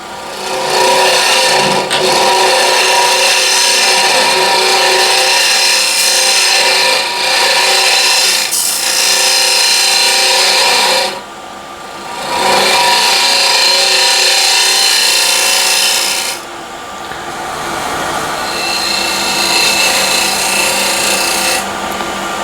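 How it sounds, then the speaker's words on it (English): A large asymmetric French curve scraper shearing across a punky hornbeam box, loud repeated rasping strokes close up, each lasting several seconds with short pauses between them. "Now I have this big asymmetric curve or French curve scraper."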